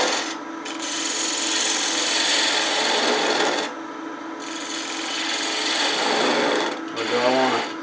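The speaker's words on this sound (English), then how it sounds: "I'm going to use my detail gouge to kind of waste this away." Steady rubbing, scraping whir of a wood lathe at about 1200 rpm as a detail gouge cuts the spinning cube piece, continuous and close, with brief pauses in the cutting.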